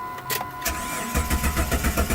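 A Jeep's 4.0L six-cylinder engine, fault code P0320, cranks over with a steady rhythmic chugging from the starter, close and loud, without catching or firing up.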